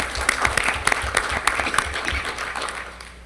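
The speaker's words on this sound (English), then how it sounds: "Let's give Margaret and that library a round of applause" Applause from the audience at a school board of education meeting honoring a librarian and her exemplary library, individual claps distinct and moderately loud, gradually thinning and fading toward the end.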